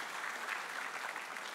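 A church congregation applauds during a sermon, a soft, steady patter of many hands clapping at once, heard from a distance and sustained evenly without voices.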